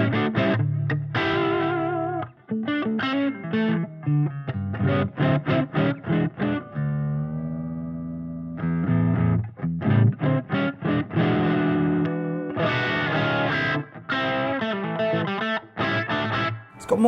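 Distorted electric guitar from a 2017 Gibson Firebird with 496R and 496T humbuckers, hot crunch, plays chugging chords and short riffs, then a sustained ringing chord before the riffing resumes.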